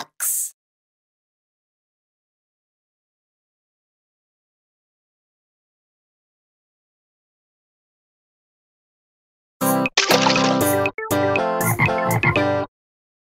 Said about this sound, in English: Ribbit. 2 frogs.